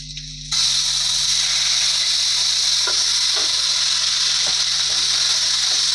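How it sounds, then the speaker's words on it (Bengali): Onion, ginger and cumin paste hits a hot pan and bursts into a loud, steady sizzle that carries on unbroken, with faint stirring clicks underneath. "দিয়ে ভালো করে ভেজে নেব।"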